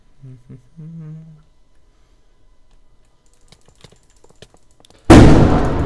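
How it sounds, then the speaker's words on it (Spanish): A firecracker goes off in a Minecraft minigame as a sudden, very loud close bang that cuts through near-silence. Earlier there is a short spoken murmur and faint clicking. "Esto ha sido un puto petardo, pero además lo han tirado aquí."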